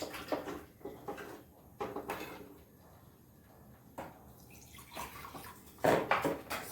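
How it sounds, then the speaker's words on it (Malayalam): Water poured into curry paste in a pan while cooking, heard as a few close, uneven splashing and sizzling bursts separated by quieter gaps. "പിന്നെ നമുക്ക് ഇത്തിരി വെള്ളം ഒഴിച്ച് നന്നായിട്ടൊന്ന് അതിൻ്റെ എണ്ണയൊക്കെ ഒന്ന് കിളിഞ്ഞ് വരുന്ന പോലെ ഒന്ന് പറ്റിച്ചെടുക്കണം"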